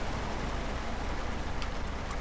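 Steady rain patters over the cab of a truck hauling a cargo container trailer, a continuous dense hiss with a low engine rumble beneath, moderately loud, with no voices.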